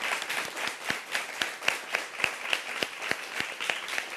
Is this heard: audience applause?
yes